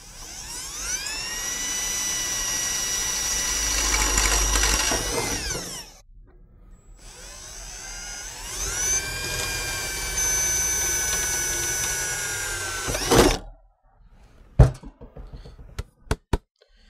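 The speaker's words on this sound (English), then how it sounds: "you're going to enlarge this hole to the 3/16 diameter with this drill bit" A power drill spins up and whines steadily in two long bursts, enlarging a hole to 3/16 inch diameter, separated by a short pause, followed by a few sharp clicks and knocks.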